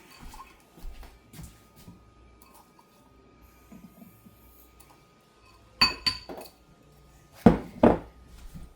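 Cucumbers being placed into serving bowls, with a few sharp clinks of dishes in two short clusters against a quiet background.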